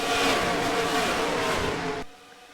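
Race cars in a sim racing video game at the Auto Club 400 roar loudly and continuously close by, then cut off abruptly near the end.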